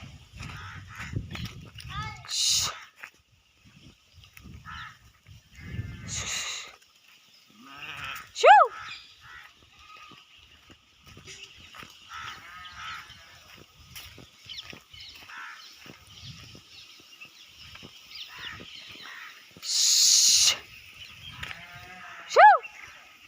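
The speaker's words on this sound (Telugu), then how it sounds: "ఇక్కడ గొర్రెలు అయితే మేస్తున్నాయి" A grazing flock of sheep bleats now and then across an open field, with a few brief outdoor noises and intermittent talking nearby.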